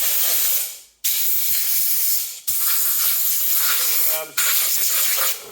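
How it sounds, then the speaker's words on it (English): Loud, steady hissing blasts of compressed air blowing out a Craftsman motor, broken by a few brief pauses, with faint clattering and scraping underneath. "What I'm going to do is blow this out with a little compressed air."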